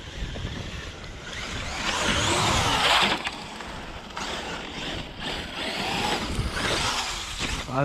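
A radio-controlled car driving outdoors and taking a few small jumps: its motor whine swells and fades in waves under steady broadband wind and rolling noise, close to the microphone, with no talking.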